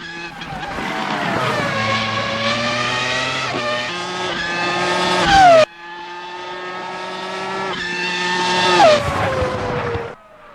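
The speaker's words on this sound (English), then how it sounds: "The V10 engine just absolutely screams" A McLaren MP4 V10 race car in Assetto Corsa screams at high revs, with the pitch climbing and dropping through gear changes. There are two full-throttle runs split by a sudden cut, and tire squeal comes near the end.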